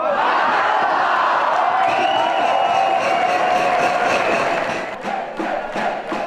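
A large crowd in a huge restaurant applauds and cheers loudly and continuously at a festival, a dense roar of clapping and shouts that eases slightly near the end.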